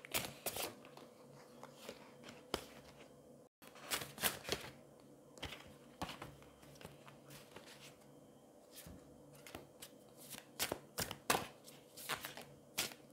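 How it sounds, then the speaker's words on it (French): Large oracle cards are shuffled by hand in a steady, close run of papery riffling and clicking. One brief pause interrupts the rustle partway through. "On glisse ces cartes, elles sont pas faciles, elles sont grandes."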